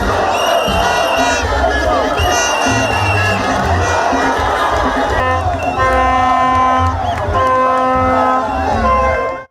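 A huge roadside crowd of thousands cheers and shouts loudly and continuously for a political candidate at an NUP campaign rally in Mbarara, with whistles, horns and voices overlapping.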